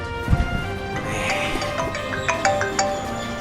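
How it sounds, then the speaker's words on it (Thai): A phone ringtone plays in a short melodic pattern of repeated electronic notes, clear and moderately loud, with some faint background clatter and no talking. "หลังจากนั้นไม่นานโทรศัพท์ก็เข้าครับ"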